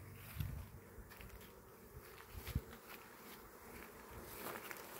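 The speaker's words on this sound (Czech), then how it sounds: "včeličky." Honeybees hum steadily around a beehive during honey-frame harvesting, a soft continuous buzz with occasional louder passes of single bees close by and a faint thump, no talk.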